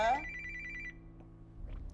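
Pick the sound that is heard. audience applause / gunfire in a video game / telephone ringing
telephone ringing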